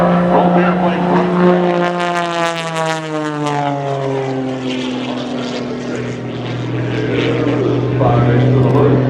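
Gary Ward's MX-2 aerobatic propeller airplane performs at the 2016 Shaw Air Expo, its engine droning loudly with sweeping pitch shifts as it rolls and turns, while an announcer talks over it throughout.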